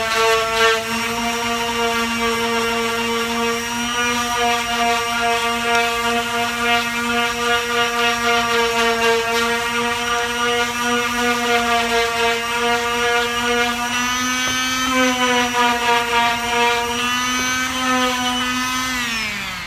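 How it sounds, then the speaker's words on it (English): Power sander working a wooden end table around a hard knot, a steady loud whine with strong harmonics running continuously for about twenty seconds, pitch dipping briefly near the end, no talking. "So I'm gonna sand this for just a second here."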